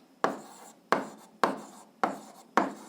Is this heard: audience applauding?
no